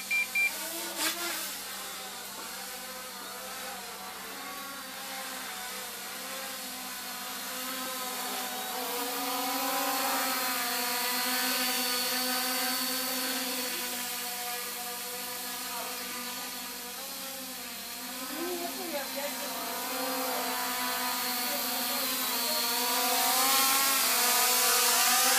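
An MJX Bugs 8 quadcopter's motors whine steadily and close by for about 25 seconds, the buzzing pitch rising and wavering as the drone holds position and flips in the air.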